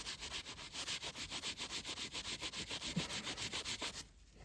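Steady rhythmic hand rubbing of a surface in a garage, like buffing boots with a finger, about twenty even strokes close and fairly loud, ending abruptly near the end.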